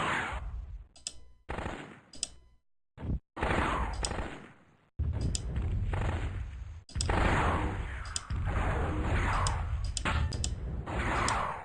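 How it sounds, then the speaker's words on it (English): PPC weapons firing in the video game MechWarrior 2, with repeated bursts of crackling energy blasts separated by short silences and a rough, buzzing, clicky texture. "I am really doing nothing trying to launch all these PPCs down there"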